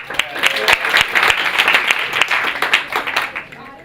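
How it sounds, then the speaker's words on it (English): A round of applause from an audience at a pitch practice session, close and lively clapping with sharp individual claps, a voice briefly heard over it before it fades out. "give him a round of applause"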